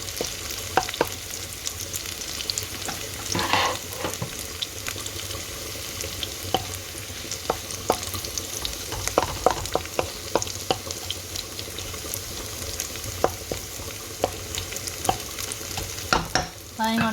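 Shallots and garlic sauté in a pan for a crab curry, a steady close sizzle with scattered clicks and scrapes of stirring, no voices over the frying.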